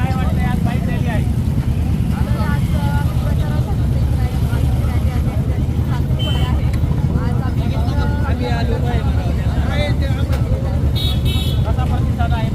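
Motorcycles in an election campaign bike rally for a local council candidate, engines droning loud and continuous with occasional horn toots, while people talk and shout throughout.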